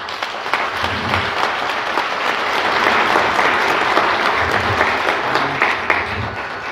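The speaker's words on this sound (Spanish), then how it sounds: "la licenciada Lorena Cuellar Cisneros, para quien en este momento pido un aplauso." An audience at a municipal government report event gives loud, sustained applause for the state governor, dense clapping throughout with faint crowd murmur beneath.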